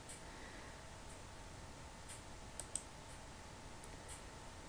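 A computer keyboard being typed on while C++ code is entered, with faint, sparse key clicks at close range against a quiet background hiss.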